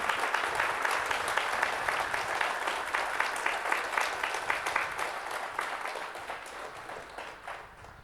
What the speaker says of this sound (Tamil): உங்களுக்கே முதல்ல ஒரு கைதட்டு கொடுத்தீங்க